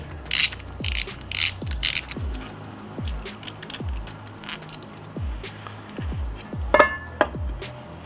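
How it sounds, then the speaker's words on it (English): Metallic clicks, ratcheting and light clinks as a brake pad pin is worked out of the caliper on a Yamaha XSR900 or MT-09, a regular series of close, sharp taps with a few brighter rings. "Now we can pull our caliper up and remove the brake pad pin."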